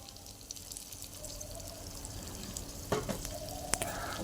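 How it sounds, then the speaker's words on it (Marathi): Finely chopped tomato tipped into onions frying golden in a pan, a continuous sizzle with stirring scrapes and a couple of sharp clacks, close and busy. "आता आपण यात एक बारीक चिरलेला टोमॅटो घालून घेऊयात."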